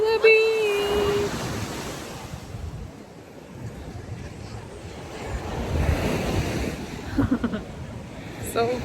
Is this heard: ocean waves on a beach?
yes